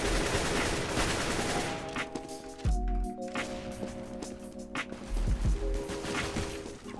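AK rifle fire in CS:GO sounds in sharp, loud bursts of rapid shots, broken by brief pauses and a few separate thumps, with game tones underneath and no talk.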